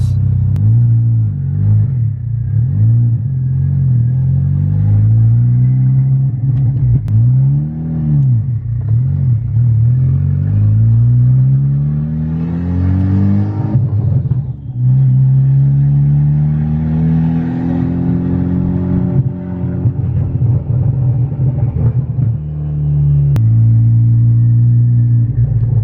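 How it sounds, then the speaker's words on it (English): An MK6 Volkswagen Golf R with a big turbo and a slipping clutch, heard from inside while driving: a loud, steady engine drone that rises and falls through repeated revving and gear changes. "I'm gonna try taking it for a quick drive right now"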